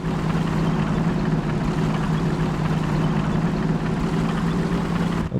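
Modded Soviet T-34 and KV-1 tank engines in the Tank Squad video game idle in a loud, even drone with a strong low hum. It runs unbroken throughout and cuts off abruptly at the very end.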